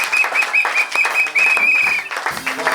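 A wedding congregation claps and cheers for Jesus, dense applause filling the room, with a sustained tone held over it and voices joining near the end.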